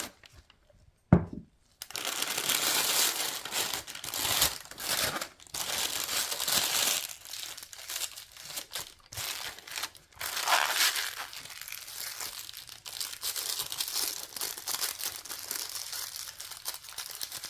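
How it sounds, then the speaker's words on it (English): A plastic piping bag being handled and readied for resin, giving steady crinkling and crumpling that runs nearly throughout at close range, with a short quiet gap near the start. "Getting my piping bag ready."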